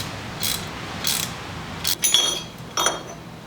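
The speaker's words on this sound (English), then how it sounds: "we're gonna go ahead and loosen these Allen bolts that hold the castle nut" A ratchet wrench clicks in short bursts while loosening Allen bolts on a Harley-Davidson M8 Softail primary, several quick metallic ratcheting runs and a faint clink, close and isolated.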